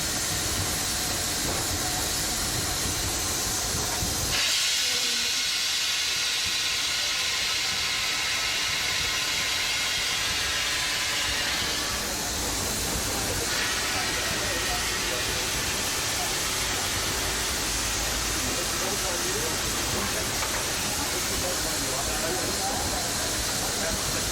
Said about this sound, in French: une machine à vapeur, ça s'écoute vivre